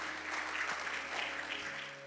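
Applause from a church congregation during a youth service sermon, steady clapping spread across the room, sustained and fairly loud for the whole stretch without talk.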